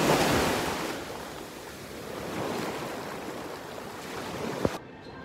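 Waves wash onto a beach with a steady, broad rush of surf and some wind buffeting the microphone, ending in a sharp knock.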